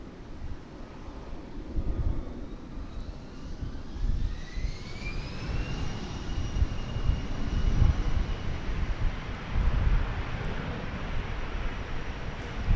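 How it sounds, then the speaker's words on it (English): An American Airlines jet arriving from Bozeman at DFW Airport, a steady broad engine roar with a faint rising whine, heard from a distance outdoors amid wind noise, holding level throughout. "We've got an American Airlines flight coming in from Bozeman"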